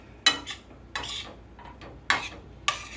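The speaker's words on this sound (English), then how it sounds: "I'm going to move it around and get all of those bits up off of the skillet." A metal utensil scrapes and stirs stuck-on bits across a skillet bottom in four or five sharp, close clanks and scrapes, spaced unevenly with quieter scraping in between and no talking.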